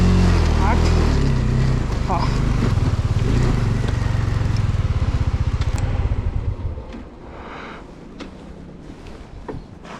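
A 35 horsepower motorcycle on a snowy mountain ride in Ladakh, with a loud, close, steady engine drone and wind rush that fade after about six seconds to a quieter rumble.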